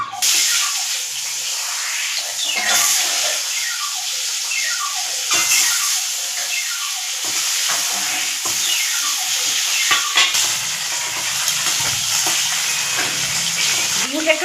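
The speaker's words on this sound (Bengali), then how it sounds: "এবার আমি ডিমগুলো ছেড়ে দেবো।" Eggs frying in hot oil seasoned with salt and turmeric produce a loud, unbroken sizzle and spatter, with occasional stirring noises mixed in throughout.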